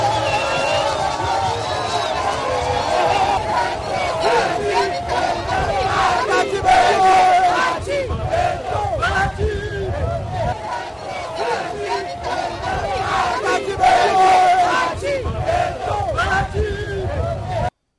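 A large, dense crowd roars and shouts along a presidential motorcade route from the airport into downtown Bukavu, DR Congo, sustained and loud for the whole stretch with constant cheering babble.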